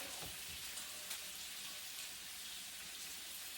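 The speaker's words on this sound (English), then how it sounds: "I'm going to drop in my rest of the garlic on the chopping board" Chopped garlic sizzles in a hot pan while pork ribs and pickled cabbage are cooked, a constant fine crackling hiss that stays steady and fairly quiet throughout, with no talking.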